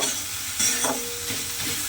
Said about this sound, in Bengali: মশলাটা কিন্তু আমি এখানে খুব ভালোভাবে এইভাবে একটু ভাজা ভাজা করে নেব, মানে তেলের মধ্যে দিয়ে একটু কষিয়ে নেব।